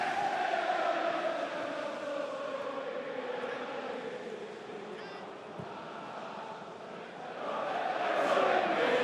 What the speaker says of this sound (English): This home crowd makes such a difference